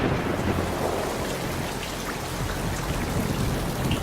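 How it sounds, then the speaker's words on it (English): Steady heavy rainfall with a low rumble of thunder beneath, dense and continuous, no voices. "when condensation occurs on this planet, it rains methane"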